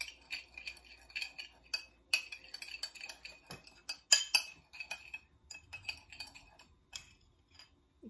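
Utensils clink and tap against a bowl while chicken pieces are mixed with seasoning powder and a little oil, a quick irregular series of light metallic knocks close by, with no talking.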